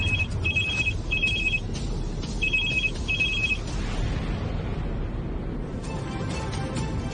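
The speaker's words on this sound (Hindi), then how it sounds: "आपके लिए कॉल है" A telephone rings with an incoming call aboard a plane, four short bright trilling bursts at a steady pace over a loud, constant cabin rumble.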